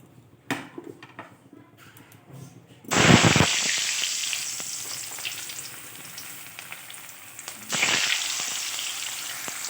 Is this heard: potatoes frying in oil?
yes